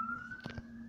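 A police siren in a video game sounds as one faint, steady, slowly rising tone, briefly broken by two soft low thumps.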